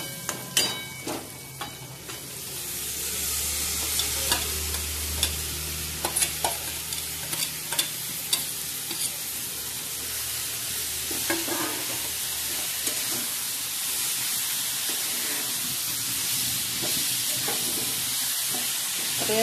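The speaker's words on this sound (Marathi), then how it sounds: "आता डाळीवरच आपण 1 चमचा मीठ घालून घेऊया. आणि ते जरासं परतून" Dal with a spoonful of salt is sautéed in a pan for dill leaf bhaji, with a steady soft sizzle broken by frequent close clicks and scrapes of a spoon stirring.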